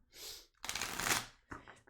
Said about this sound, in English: Doing some shuffling, Vanita Jean.